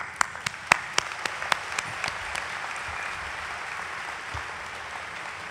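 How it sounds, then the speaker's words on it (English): Crowd applause at a Rowan University School of Osteopathic Medicine graduation ceremony, opening with a few sharp separate claps that quickly blend into a steady wash of clapping from a large audience, slowly thinning toward the end. "Now you can applause."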